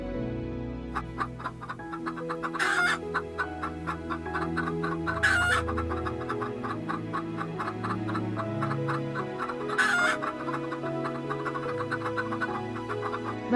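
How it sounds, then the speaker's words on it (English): Chicken clucking steadily in a series of short repeated calls, with a few louder crowing bursts standing out, close and clear over soft background music. "chicken"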